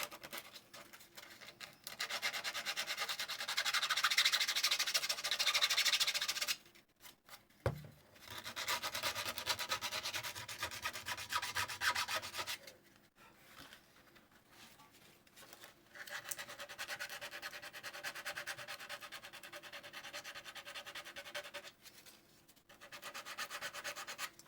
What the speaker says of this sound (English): This again is much easier with this emery cloth getting in here than the same grit of standard sandpaper